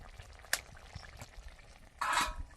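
A soybean and potato curry with added broth simmers in a pot, giving faint, soft bubbling and gentle sizzling, with a brief louder hiss near the end.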